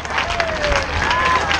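Dense crowd applause closing a school flash mob at a Virades de l'Espoir charity event, loud and continuous clapping with some scattered voices mixed in.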